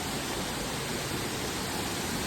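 Twin Falls waterfall, a dense, steady roar of rushing water heard close and alone, with no pauses or voices over it.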